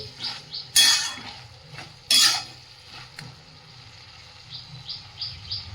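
A metal lid comes off a cooking pot of simmering vegetables: two sharp metallic clanks, then a light tap, with soft bubbling and occasional faint chirps in the background.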